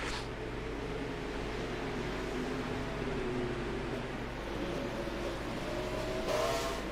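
Stock cars roar around an oval short track in a steady, dense engine drone, with one car's rising engine tone sweeping through and a crowd-like wash beneath.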